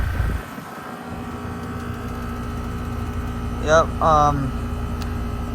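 A brand new 2025 Trane XR14 1.5-ton heat pump outdoor unit running with R454B refrigerant, giving a steady low mechanical hum and drone throughout; a person briefly speaks near the end over it.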